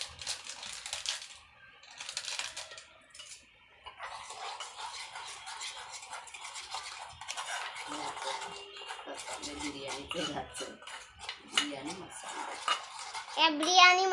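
A spoon scrapes and clinks against a metal pot as chicken biryani with salt and biryani masala is stirred, with steady clattering strokes up close and a faint voice in the background.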